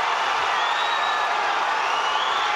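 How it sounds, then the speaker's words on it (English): Boxing arena crowd roaring in support of fighter Matty Askin, a continuous dense wash of cheering and shouting that holds steady throughout, with a whistle-like tone rising through it. "Well, the crowd's really getting behind Askin now."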